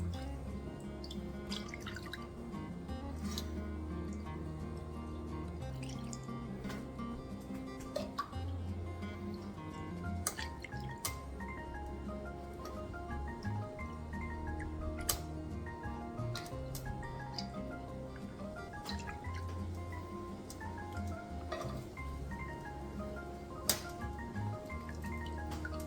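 Melted beef tallow dripping through a dishcloth sieve into a Pyrex jug, faint close drips and ticks falling in an irregular, continuous patter over a low background hum.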